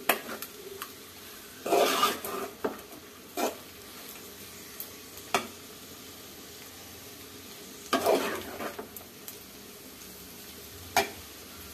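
Food fries in a pan on a stove with a soft, steady sizzle. A spatula scrapes and stirs in bursts, with a few light clinks of metal.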